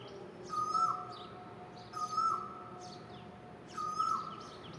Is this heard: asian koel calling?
yes